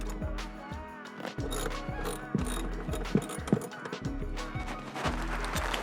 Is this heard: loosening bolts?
yes